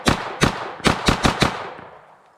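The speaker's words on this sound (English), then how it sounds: "WD9 first shots with the Glock mag." Five sharp shots from a Wyssen Defense WD9 9mm pistol-caliber carbine fed from a Glock magazine, fired at an uneven pace, close and loud, with the echo tailing off after the last one.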